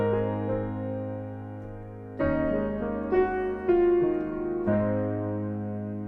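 A piano plays the intro of a song alone: sustained chords ring and slowly fade, with new chords struck at a few measured points.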